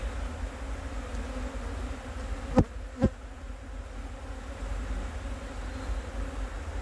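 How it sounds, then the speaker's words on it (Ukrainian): A close, continuous hum of buzzing honeybees fills the clip, bees from a queen-bank colony being worked at the hive, with two sharp clicks near the middle. "а в мене на голові є бджоли"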